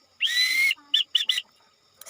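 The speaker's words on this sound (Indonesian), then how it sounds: "membunyikan alfabet dalam sandi Morse menggunakan simbol titik dan garis pakai peluit" Whistle blasts spelling Morse code, close and loud: one long dash followed by three short dots in quick succession, with no talking over them.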